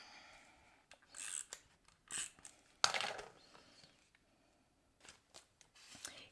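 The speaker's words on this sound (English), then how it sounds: "And I'm going to use a tape runner." A tape runner lays adhesive along a folded, creased angled gatefold paper card in a few short, quiet rasping strokes, with soft handling rustles in between.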